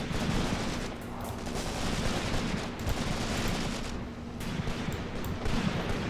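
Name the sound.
machine gun fire in Graviteam Tactics video game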